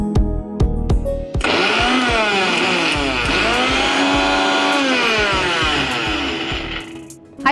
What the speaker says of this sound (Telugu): జార్లో తీసుకొని ఒక్కసారి జస్ట్ ఆన్ ఆఫ్ అంతే.